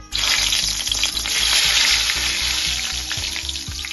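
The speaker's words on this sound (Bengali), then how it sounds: "এবার আমি এর মধ্যে একটু শুকনো লঙ্কা আর তেজপাতা ফোড়ন দিয়ে দেবো।" Dried red chillies and bay leaves hit hot oil in a kadai, letting out a loud, steady broadband sizzle that holds for the whole stretch, with a few faint clinks from the pan underneath.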